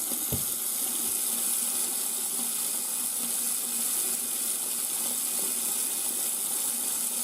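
Water runs hard and steadily from a bathroom sink faucet fed by a newly installed water pump, air in the line adding a sputtering, hissing edge to the close continuous rush, with no talk.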